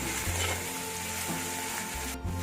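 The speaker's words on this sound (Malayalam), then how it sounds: "ഇനി ഒരു പച്ചമണം മാറുന്നിടം വരെ ഇതൊന്ന് വഴറ്റണം." Onions with ginger garlic paste sauté in a hot pan for pepper chicken, a continuous close sizzle and frying hiss with a few soft stirring scrapes and no voices.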